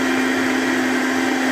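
Electric blender running continuously at close range, mixing fennel (bisbas) juice with sugar, with a loud, steady motor whine and a strong low tone held throughout.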